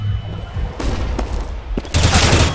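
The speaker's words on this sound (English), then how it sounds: "Deploying flashbang." A flashbang grenade goes off in a first-person shooter video game during a competitive LAN match, a loud burst among rapid gunfire and booming shots, filling the short moment with dense explosive noise and no talk.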